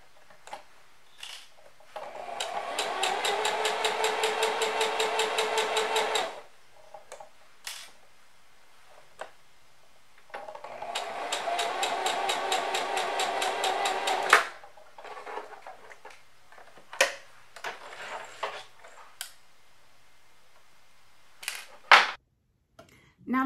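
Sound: sewing machine stitching dress bodice pieces

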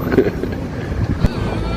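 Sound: wind

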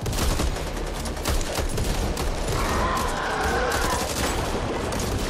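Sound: gunfire in the video game Back 4 Blood

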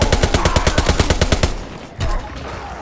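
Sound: Wimmersperg SPZ AR gunfire in a video game

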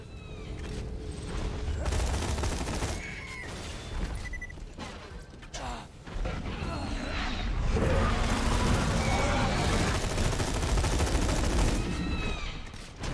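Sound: gunfire from Borderlands 2 video game

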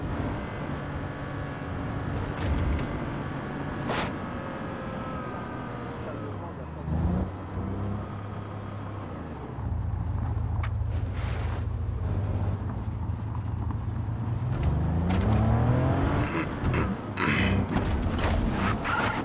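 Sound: limousine engine driving in Just Cause 3 video game

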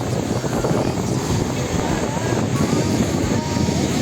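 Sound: strong wind at the beach

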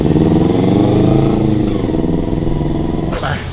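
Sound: Kawasaki Z250 motorcycle engine

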